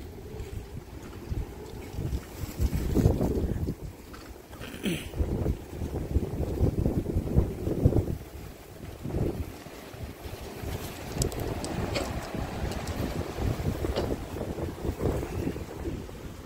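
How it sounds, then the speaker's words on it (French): Strong, violent wind roars and gusts outdoors, buffeting the microphone with loud rumbling bursts throughout and a brief sharp noise partway through. "Ben, fort le vent."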